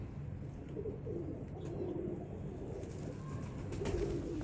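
Sheermila pigeons coo softly in repeated low, rolling calls, fairly faint against a quiet background, with no one talking.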